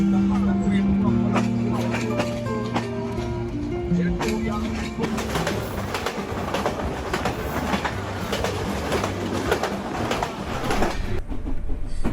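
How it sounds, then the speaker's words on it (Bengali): A passenger train departs Khulna for Rajshahi: sustained horn tones open, then rolling rumble and rhythmic wheel clatter build steadily, with faint voices in the carriage. "ট্রেনটি এখন ছেড়ে যাচ্ছে খুলনা থেকে রাজশাহীর উদ্দেশ্যে।"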